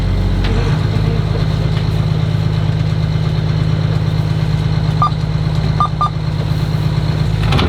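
Boat engine idling steadily while drifting in a fast current on a flooding river, a continuous low droning hum that stays loud and unbroken from start to finish, with a few faint high tones near the end.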